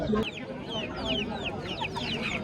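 Chickens and roosters at a bird and poultry market in Margilan, Uzbekistan, clucking and calling in a steady chorus of short, repeated squawks close by, with occasional crowing-like calls over busy market background.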